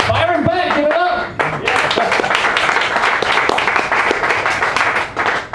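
A comedy club audience breaks into applause for a stand-up act; after a moment of voices at the start, sustained crowd clapping fills the rest and holds steady to the end.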